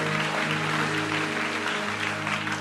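A church congregation applauding, dense sustained clapping from a large crowd filling the space, loud and continuous throughout with a steady hum underneath.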